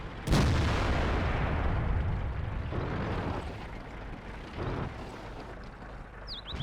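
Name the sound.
tank cannon firing in World of Tanks video game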